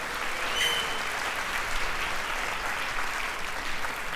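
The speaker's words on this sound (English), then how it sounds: "Give her a big round of applause." A seated audience applauding at a talk, steady dense clapping that stays even and fairly loud throughout.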